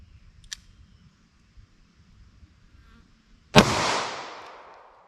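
A single sharp, loud gunshot from a snub nose revolver firing Blazer 9mm, preceded by quiet outdoor ambience with a faint tick, then a long decaying echo.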